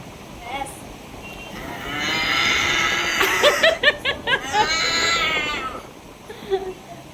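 A person imitates a buffalo's low, drawn-out moo, voicing several wavering calls close up with brief pauses between them.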